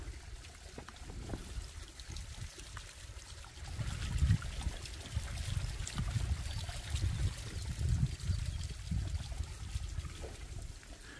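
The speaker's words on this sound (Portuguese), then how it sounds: "E aqui tem mais uma saída de água, que é o tal do ladrão que a gente fala" Water running from a pond overflow outlet on a rural property, a steady trickling and gurgling flow that grows somewhat louder partway through, with no voices.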